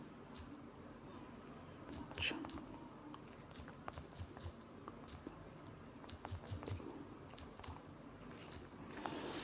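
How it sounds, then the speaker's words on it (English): Text being typed on a smartphone, a quiet, steady patter of small taps continuing at an irregular pace, faint and close. "this is what you are going to type here"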